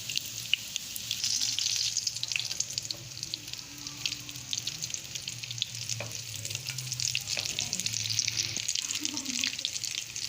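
Small cutlet balls sizzle steadily in hot oil in a home kitchen, a continuous bright crackle with occasional faint clinks and a soft low hum underneath.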